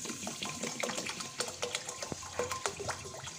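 Half a litre of water poured onto sugar in a pan for rasgulla syrup, a close, steady splashing and trickling stream with bubbling gurgles.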